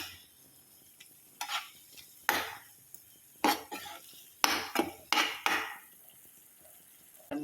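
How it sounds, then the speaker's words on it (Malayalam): Egg being stirred into meat masala in a pan, with repeated scraping strokes of a spoon against the metal and a light sizzle underneath, close and fairly loud, with quiet gaps between strokes. "നമ്മുടെ മുട്ട ഇട്ട് കൊടുക്കാം നന്നായിട്ടൊന്ന് യോജിപ്പിക്കാം"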